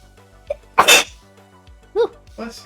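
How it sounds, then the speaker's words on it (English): A single loud, sharp sneeze bursts out close by, with a softer breathy intake before it and brief voiced sounds following, in a quiet room during a drawing session. "Sneeze so many times."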